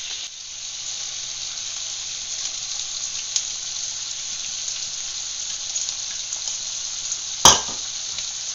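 Onions and garlic sauteing in a pan give a steady, fairly loud sizzle throughout, with faint stirring and one sharp clatter near the end.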